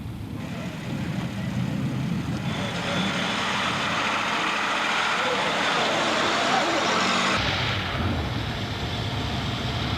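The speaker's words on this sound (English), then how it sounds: "Coming next is Peter Golding's 6-cylinder 45 horsepower Tourer." A six-cylinder 45 horsepower Napier Tourer climbs a hill at a motoring event, its engine a loud, steady roar with broad road noise that rises and holds for several seconds before easing, with no voices heard.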